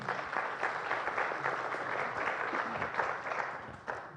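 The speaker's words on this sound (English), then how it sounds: "A round of applause to him" A live-streamed youth forum audience applauds a speaker, a steady wash of clapping that holds at moderate level throughout with a slight swell near the end.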